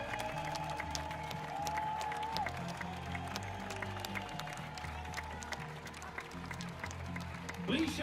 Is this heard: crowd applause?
yes